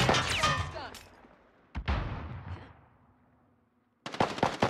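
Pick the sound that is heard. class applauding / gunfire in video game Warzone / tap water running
gunfire in video game Warzone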